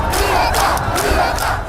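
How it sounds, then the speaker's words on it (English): Large crowd of protesters in a Cuban street demonstration shouting together in rising, rhythmic chant-like bursts, loud and dense, with no single voice standing out. "A wave of protests hit 40 Cuban cities"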